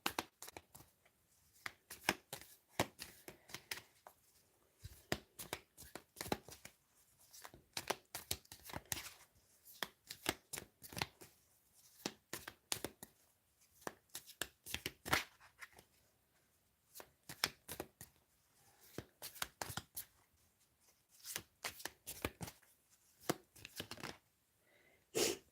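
Tarot cards being shuffled by hand in a quiet room, with repeated bursts of crisp riffling and slapping, each followed by a short pause, close and soft, with no talking.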